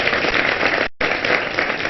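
A studio audience on a morning TV show applauds a guest with dense, steady clapping, briefly cut off mid-way and then resuming.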